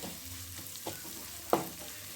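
Onions frying golden in a pan, with a soft steady sizzle throughout and a few brief clinks of a spatula stirring against the pan, one sharper scrape near the end.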